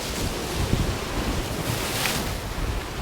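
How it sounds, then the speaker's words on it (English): Ocean waves crash against rocks on the shore at Findochty, Scotland, a continuous loud roar of surf with wind buffeting the microphone throughout. "it's these waves crashing here"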